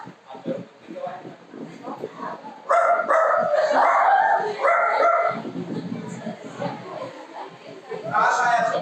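People at a school workshop imitate dog barking, producing a series of loud yips, woofs and whimpering sounds in bursts, with chatter and talking mixed in between the imitations.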